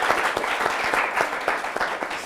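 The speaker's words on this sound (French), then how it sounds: "je vous demande de l'applaudir très très fort" Steady applause from an audience at a formal event in Côte d'Ivoire, dense overlapping claps sustained at an even level throughout, moderately close with no talk on top.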